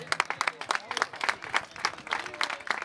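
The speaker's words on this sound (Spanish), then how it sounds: "el aplauso para Inara." Clapping at a party, uneven claps from a small group of hands mixed with crowd noise and voices talking over it.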